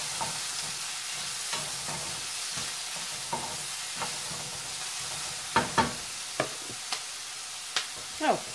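Onions sauté in about a tablespoon of olive oil for creamy garlic mashed potatoes, with a constant bright sizzle broken by sharp spatula taps and tosses that grow louder and more frequent near the end.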